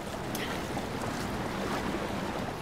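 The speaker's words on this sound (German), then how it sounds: "Ich schwimme mal darüber" Splashing and churning water as a character swims through it in a Zelda game, a steady broad wash of sloshing sound throughout with no voices.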